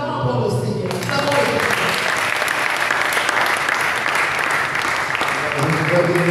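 Church congregation clapping and cheering in praise during a worship service, dense sustained applause beginning abruptly after a moment of quiet and continuing loud to the end.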